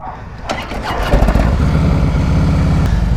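A Harley-Davidson Fat Boy motorcycle cranks and fires up, its V-twin catching after a brief starter whir and settling into a loud, close, lumpy idle with a heavy low-frequency pulse.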